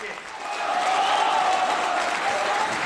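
Warm applause from a conference audience greeting a company founder as he walks to the rostrum, a steady wash of clapping that swells slightly and holds throughout.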